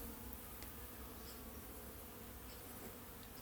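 Honey bees buzz inside a long mini nuc hive with brood on every comb, a close, continuous, dense droning hum that stays steady throughout.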